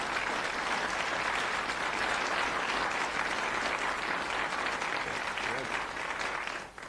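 Steady, dense applause from a television quiz-show studio audience on Countdown, holding at an even level throughout with only a slight dip at the very end.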